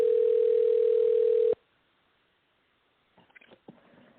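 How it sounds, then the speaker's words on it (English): A telephone line gives a steady, loud single-pitched tone for about a second and a half on a radio show call, then cuts to silence before faint handling noises and a brief click. "It's ringing right now."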